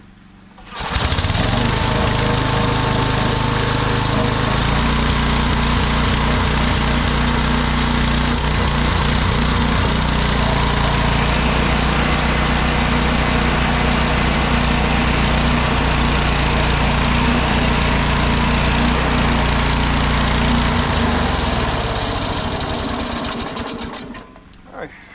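Modified walk-behind lawn mower engine running close and loud in an overgrown field, a steady buzzing drone that starts abruptly, holds for about twenty seconds with a shift in pitch, then winds down and cuts off.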